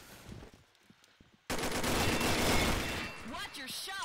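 Automatic gunfire in an online shooter game, a dense loud burst of rapid shots starting abruptly after a quieter stretch of faint single pops, with game voices calling out during it.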